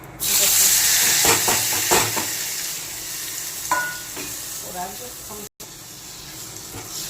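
Tomatoes dropped into hot oil seasoned with asafoetida for a Gujarati sev tameta shak, giving a steady close sizzle and hiss with a few stirring clatters, no talk over it.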